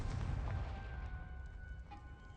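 A Confringo fire spell blast in Hogwarts Legacy, heard as a deep booming burst at the start that fades into a rumbling decay with a faint ringing tone trailing off, loud and close, with no talk over it.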